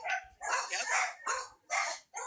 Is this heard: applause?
no